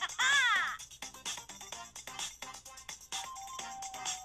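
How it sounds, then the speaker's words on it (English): Brawl Stars game sound plays through the stereo speakers of a Samsung Galaxy Note 9 at maximum volume: a busy mix of quick synthetic effects, tonal jingles and a sliding chime near the start, bright and loud throughout. "Here's a sound test for the Note 9 at max volume for Brawl Stars."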